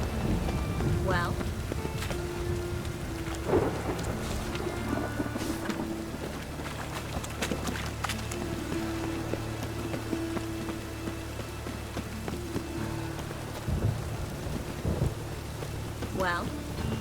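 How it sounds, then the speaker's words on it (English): Steady rainfall with rolling rumbles of thunder in a Witcher 3 game scene, a constant wash under low booms, with occasional character voices speaking over it. "Raining again."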